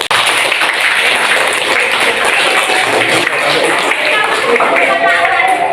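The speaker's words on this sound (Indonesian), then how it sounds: "Tepuk tangan yang meriah." Students in a twelfth-grade class break into lively clapping for their teacher, a dense patter of many hands close by, with voices mixed in under it.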